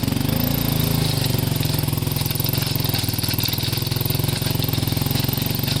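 An ATV engine labors steadily while dragging a lawn leveling implement with chisels across a yard, a loud, continuous throbbing drone with rapid pulsing and no talk.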